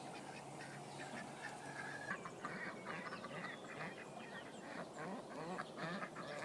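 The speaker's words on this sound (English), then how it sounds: "That's the sound of a happy duck." Contented ducks in a newly finished coop quacking in a busy overlapping chatter of soft, rapid calls, close and steady over a constant background hiss, no people speaking.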